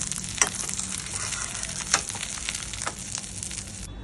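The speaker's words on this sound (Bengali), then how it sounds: "মাছের মাথাগুলো ভালো করে ভাজা হয়ে গেছে, এবারে আমি নামিয়ে নেব।" Katla fish heads fry in a pan with a constant close sizzle and spatter, marked by a few sharp pops and scraping stirs along the way.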